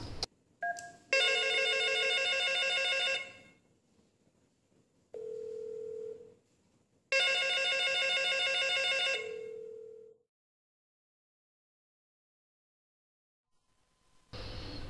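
An IP PBX desk phone rings for an incoming call, sounding two long electronic ring bursts, each followed by a short lower tone, close and clear, then silence.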